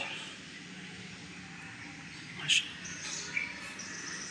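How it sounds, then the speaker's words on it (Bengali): Birds chirp outdoors amid nature in Malaysia in the early morning, with a few short, sharp tweets near the middle and end over a low, steady background hum. "পাখির কিচিরমিচির"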